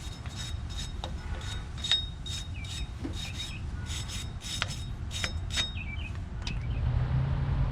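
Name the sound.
steel wire brush scrubbing Jeep brake parts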